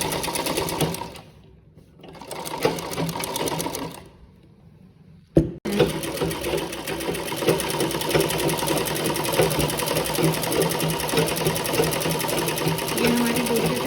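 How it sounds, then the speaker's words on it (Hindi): A sewing machine stitching a blouse sleeve runs in rapid mechanical bursts, pausing twice before a sharp clack and then stitching steadily to the end, with someone speaking over it. "अब हम इसके ऊपर भी एक सिलाई लगा देते हैं।"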